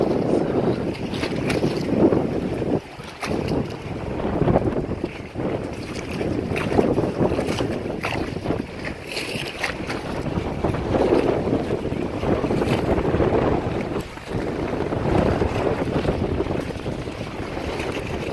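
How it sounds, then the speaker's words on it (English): Strong wind roars steadily outdoors at a flooded park, buffeting the microphone with loud gusts that swell and ease over the whole stretch, with water movement faintly beneath. "The wind out here is pretty strong too."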